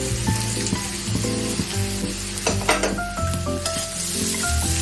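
Chopped green chillies fry in a pan in a lively, close sizzle while a spatula stirs and scrapes against the metal in uneven strokes, with no talking.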